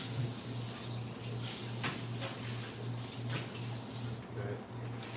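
Tap water runs in a steady, fairly quiet rush while meat cuts are washed, a continuous hiss with faint handling sounds and a low hum underneath.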